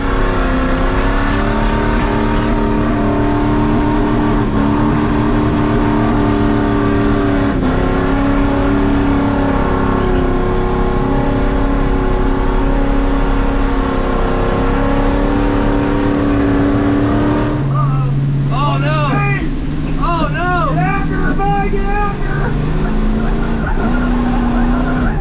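A car doing a burnout roars with a hard-revving engine and long screeching tire skids, loud and continuous, with the engine pitch rising and shifting near the end.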